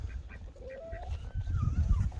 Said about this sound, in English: Okay, look at these chickens.